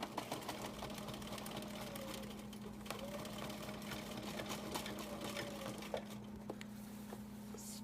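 A home sewing machine doing free motion quilting runs steadily throughout, with a constant motorized hum and a fast needle patter, close and even, with occasional soft clicks and fabric shuffling.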